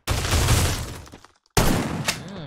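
Shooting video game gunfire, heard as two loud close bursts of shots split by a brief silence, each sharp crack tailing off into a fading rattle.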